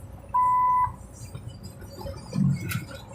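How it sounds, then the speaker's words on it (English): A truck's crash avoidance system sounds one steady electronic warning beep lasting about half a second, clear over the low rumble of the cab on the road. "that annoying beep every now and then that you hear is my crash avoidance system"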